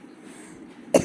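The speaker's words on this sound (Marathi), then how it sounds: "खोकला यायला लागला थंडीमुळं" A single sharp cough from someone with a cold bursts out near the end, after a quiet, low background.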